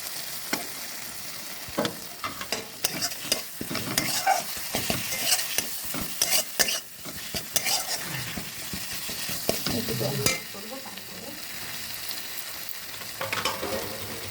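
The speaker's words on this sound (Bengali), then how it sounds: "হলুদটা দিয়ে দিলাম হলুদটা ভাজা ভাজা হয়ে হলুদের গন্ধটা কেটে যাবে" Turmeric and ground spices fry in hot oil for potato dum, giving a steady close sizzle broken by frequent scraping stirs and clinks that grow busier midway, then settle back to a gentler sizzle.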